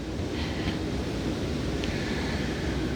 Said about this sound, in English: It is quite windy out today.